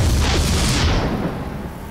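A deep, loud boom from a StarCraft II photon cannon blast, fading steadily into a rumbling tail over about two seconds.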